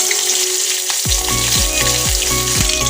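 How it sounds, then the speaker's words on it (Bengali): Black cumin seeds and four green chillies drop into hot mustard oil and burst into a loud, close, crackling sizzle with popping spatters that keep going. "এখানে আমি কালো জিরে আর 4টে কাঁচা লঙ্কা ফোড়ন দিচ্ছি"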